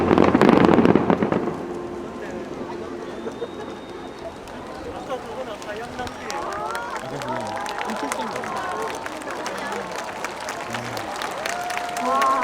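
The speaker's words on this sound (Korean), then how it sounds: "와, 정말 마지막까지 화끈한 박수였습니다." At the close of a seaside fireworks show in Busan, a crowd claps steadily, the applause close and continuous, while a loud announcer voice talks over it at the start.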